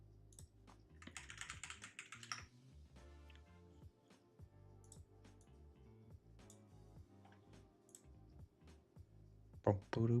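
Clicky keystrokes from a Mel Geek mechanical keyboard, tapped in a steady but uneven rhythm at close range, with a short burst of brighter noise near the start and a louder knock at the end.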